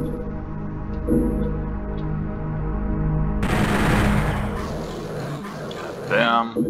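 Gunfire and monster roars from Doom 64, a low growling creature sound followed by a sudden loud stretch of shooting and impacts, with speech in between.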